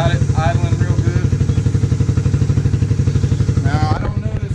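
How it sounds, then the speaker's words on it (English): A 1996 Suzuki Quad Runner 250 4WD ATV idles after a carburetor rebuild, its engine thumping in a fast, even, loud close-up rhythm while someone talks over it. "As you can see, I kind of fiddled with the idle a little bit. Got it idling real good."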